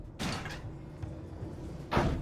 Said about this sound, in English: The door should be unlocked now that the drill circuit is broken.